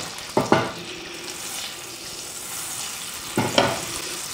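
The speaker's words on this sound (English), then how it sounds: "our butter is all sizzling up nice" Butter sizzles in a hot pan as onions are about to be cooked for Newfoundland-style fish and chips: a steady close frying hiss with two short, louder crackling bursts near the start and end, with no talking.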